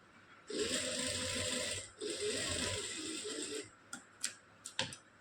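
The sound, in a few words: sewing machine stitching a piping strip joint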